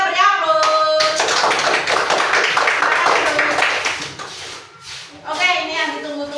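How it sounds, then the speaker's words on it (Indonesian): A primary school classroom claps for a group's discussion results, a burst of many children's hands patting rapidly for a few seconds, with voices heard before and after. "Kita beri aplaus"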